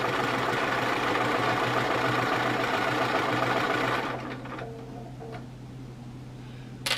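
A sewing machine runs steadily with a fast, even mechanical ticking hum, then stops after about four seconds, leaving quieter room sounds and faint handling noises.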